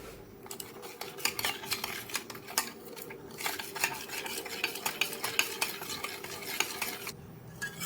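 A spoon stirs agar agar powder into cold water in a bowl for mango pudding, giving quick, close, repeated metallic clinks and scrapes in a fast, uneven rhythm, with no voices.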